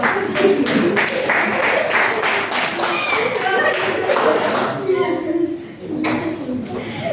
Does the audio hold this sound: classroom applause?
yes